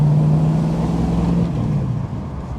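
A 1965 Ford Mustang V8 convertible with a manual gearbox drones with a low, steady engine rumble that drops in pitch and level partway through as the gear changes, heard from inside the car without talking.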